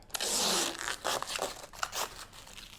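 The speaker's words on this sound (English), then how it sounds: "it's not the easiest wrapping in plastic to take off" Plastic wrapping is pulled and peeled off a stainless steel portable ice maker, giving close, bursty crinkling and tearing rustles in several quick pulls with short pauses between them.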